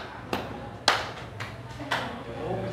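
A classroom of students claps together in a rhythm exercise, giving four or five sharp group claps at uneven intervals over low background room noise.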